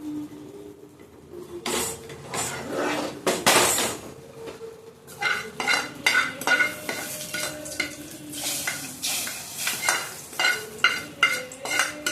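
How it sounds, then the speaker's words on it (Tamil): Hot tempering poured into a pan of dal sambar, sizzling and crackling in bursts with scraping stir sounds and clinks of a utensil. "இந்த தாளிப்பை அதில் ஊற்றிடலாம்."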